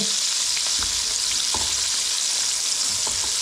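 Cajun-coated and beer-battered catfish fry in hot oil, a loud continuous bubbling sizzle with faint occasional clinks, no voices.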